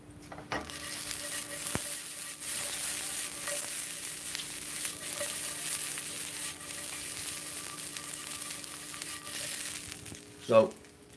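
Food crisping in a hot pan sizzles steadily and close for several seconds, with a few sharp utensil clicks near the start and a louder scrape near the end.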